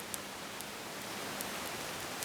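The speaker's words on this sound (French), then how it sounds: "ce que vous entendez, c'est ma machine à laver" A steady, broadband whooshing hum, like a washing machine running nearby, continuous and even throughout with a few faint clicks.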